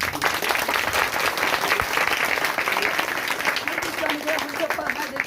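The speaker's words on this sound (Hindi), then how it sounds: "अरे एक बार जोरदार ताली बजाएं" A congregation at a Friday prayer gathering breaks into loud, sustained applause, dense clapping filling the room while voices call out faintly beneath it.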